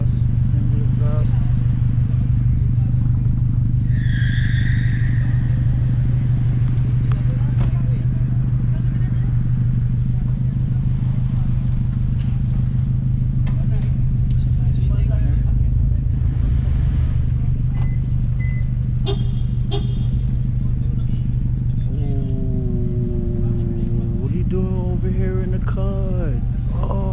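Lexus IS300 with a single exhaust idling at an underground car meet, a steady low rumble running throughout under loud crowd chatter, with a few revs near the end.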